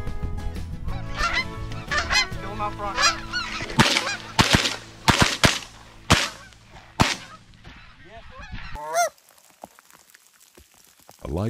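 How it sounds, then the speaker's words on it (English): Canada geese honk loudly and repeatedly close by, calls overlapping in bursts, then fading as light rain patters in the final seconds. "it's not stopping the mallards and the big Canada geese from flying"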